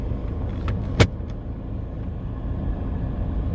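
A car travels on the narrow mountain road up Biokovo, giving a low steady rumble of engine and tyres with a brief sharp click partway through, no voices.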